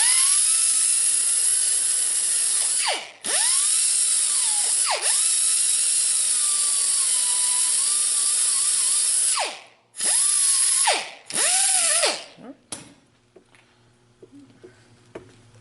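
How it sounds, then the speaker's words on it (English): A grinding wheel cleans cracked cast iron in a loud, steady high whine that briefly drops off and spins back up several times, then winds down into quiet near the end. "I'm just going to grab a grinding wheel and clean it off"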